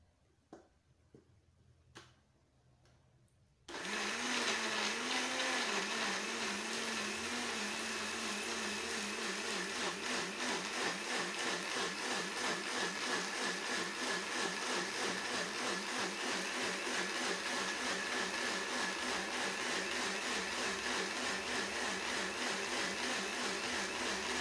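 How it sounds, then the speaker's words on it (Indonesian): An electric blender grinds red chili, bird's eye chili and shallots, starting abruptly after a few soft clicks and then running loud and steady with a rhythmic churning pulse until the end. "Dan langsung saja ini kita blender kembali."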